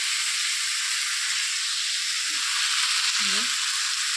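Papaya and potato pieces sautéing in a pan at home, a steady close sizzling hiss with a few soft stirring clinks, and no voices.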